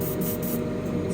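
An airbrush sprays magenta paint onto an AMT 1967 Impala Street Machine model car, giving a steady close hiss that pulses faintly as air and paint alternate.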